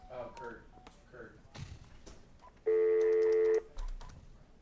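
A touch-tone telephone being dialed gives off one sustained keypad tone about a second long, loud and clear, set between stretches of people talking and a few soft thumps.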